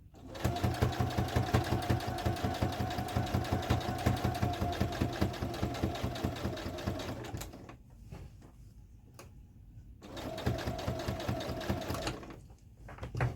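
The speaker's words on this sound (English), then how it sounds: "here we go, and a little back stitch. And we're going to go slow because I want to make sure that I stay right on top of those stitches." Sewing machine back-stitching slowly over a denim jacket, with a steady rapid stitching rhythm that stops for about two seconds and then resumes briefly, running alone with no talk.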